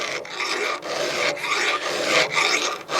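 A hand file sharpens a chainsaw tooth in steady, loud back-and-forth rasping strokes, about five in a row with brief pauses between them. It is close up, with no talking.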